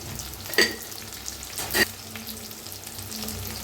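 Onion, tomato, garlic and ginger fry quietly in a pan, a low sizzle broken by two brief clattering stirs of a spoon against the pan.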